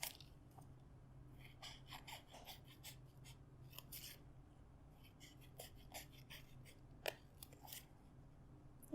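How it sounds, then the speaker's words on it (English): Scissors snip through paper while cutting out a paper Christmas tree, with quiet clusters of crisp cuts scattered over a soft room background. "Make sure you move your fingers out of the way as you cut up your tree."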